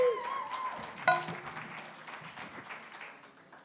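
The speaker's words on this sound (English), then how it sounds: "a big round of applause" Applause from an audience welcoming a panel at an NFT industry conference in London, with a sharp burst of clapping and cheering near the start that fades into lighter clapping, under some background voices.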